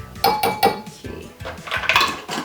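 A spoon clinks and scrapes against a bowl while stirring a yeast mixture for sesame and herb braided bread, a few quick taps followed by softer swirling, close up with no talk.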